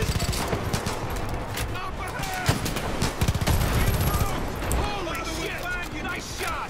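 Rapid bursts of gunfire in Far Cry 5 crack out in dense volleys and single shots, loud and close, with a voice talking over the shooting.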